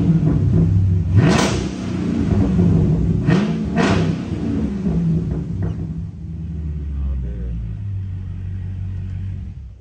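A widebody Scat Pack car engine rumbles close by and revs up several times in quick bursts, each rise and fall in pitch clear, before settling back to idle.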